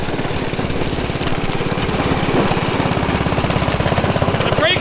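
A small engine in a homemade Formula One car runs with a loud, rapid, chattering putter, steady and close throughout, like a lawn mower motor under load.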